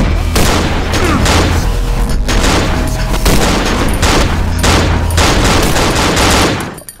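Loud, rapid gunfire from the horror video game Cry of Fear, with dense bursts of shots and booming impacts repeating for several seconds before cutting off abruptly.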